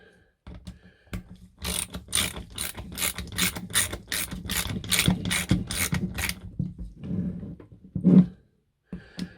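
Ratchet wrench tightening exhaust manifold bolts on a Vauxhall Astra H Z16XEP twinport engine: a close, loud run of rapid clicking pawl strokes in steady bursts, with brief pauses and a clunk near the end.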